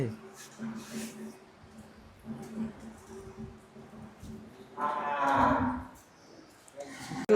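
Large cattle on a farm, with one drawn-out low moo rising midway through while people talk nearby amid quiet barn background.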